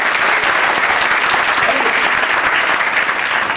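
Loud, dense applause from a seminar audience on communal harmony and national integration, many people clapping continuously and evenly, close and sustained throughout.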